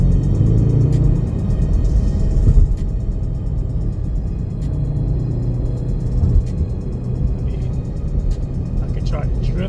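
A 2024 Ford Mustang convertible drives at night, its low engine rumble and road roar continuous and fairly loud. Someone talks over it throughout.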